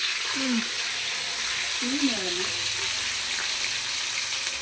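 Onions frying in oil for a brinjal curry (badnekai palya), a steady hiss of sizzling running the whole time, with a voice speaking over it in two short bursts.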